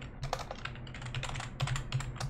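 Computer keyboard typing at a desk: a quick, irregular run of light key clicks and taps, close up and fairly quiet, with no talking.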